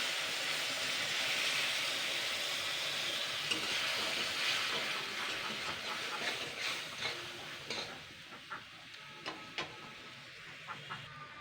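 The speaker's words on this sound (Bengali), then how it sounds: "হলুদ গুঁড়োটা লঙ্কা গুঁড়ো পুড়ে যাতে না যায় সেই জন্য আমি এখানে মিক্সি ধোয়া জলটা দিচ্ছি" Water from rinsing a mixer poured into a pan of frying chili and turmeric powder, a soft hissing sizzle that settles into quieter bubbling with a few light clicks of stirring.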